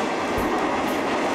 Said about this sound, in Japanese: この列車、もうすぐ守谷駅に着きます。